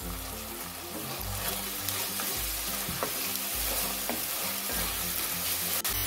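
Chopped deseeded tomato stirred with ginger and garlic paste in hot oil for palak paneer: a steady close sizzle with repeated scraping stir strokes, no voices.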